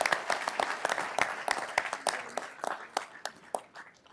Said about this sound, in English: So could we give them a round of applause too, please?